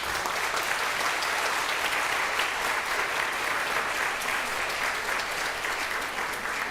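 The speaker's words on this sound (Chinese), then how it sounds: "我们是不是用最热烈的掌声来鼓励他们？" Audience at a church Thanksgiving concert applauding a children's choir, dense sustained clapping from a large crowd, steady and even from start to finish with no talk over it.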